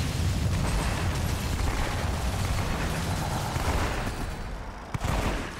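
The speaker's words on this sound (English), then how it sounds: "these guys explode when they die" Enemies blow up as they die in the shooter game Outriders: dense, continuous blasts and crackling bursts fill the mix, with a sharp pop near the end. The din is loud and unbroken throughout.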